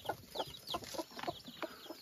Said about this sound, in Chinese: 这只母鸡真的是这么早它就把小鸡带回来了，你看它小鸡生长得多好